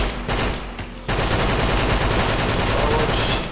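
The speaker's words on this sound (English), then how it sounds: "We got the MAC-10. Which is basically a rapid fire automatic" Rapid automatic MAC-10 fire in the Minecraft Tech Guns mod: a loud, dense, continuous burst of shots that starts after a brief stutter and runs unbroken to the end, with no talk.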